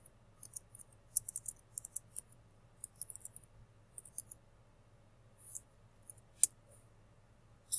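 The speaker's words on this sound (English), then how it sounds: "So I'm going to type" Soft, quick clicks of typing on a computer keyboard, irregular bursts of light taps, close and quiet with no talk.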